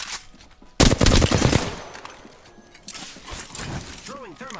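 Gunfire in Apex Legends: a loud, close burst of rapid automatic shots starts abruptly, then fades into scattered shots and movement sounds. Voices talk over the action.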